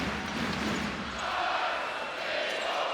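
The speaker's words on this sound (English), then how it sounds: "That woke the crowd up." Basketball arena crowd at a Eurobasket 2015 game between Latvia and Ukraine roaring after a slam dunk, a broad swelling cheer at moderate distance that rises and holds.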